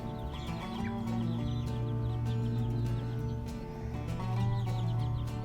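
Small frizzle chicks cluck and peep steadily at close range, with a continuous low drone running under the chirping throughout.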